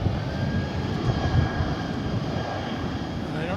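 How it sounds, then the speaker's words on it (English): An MD-11 jet roars steadily down the runway at DFW Airport during takeoff, a loud, constant engine rumble filling the whole stretch without letting up. "We're going to try to bring you an MD-11 taking off."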